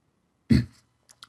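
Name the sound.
throat clearing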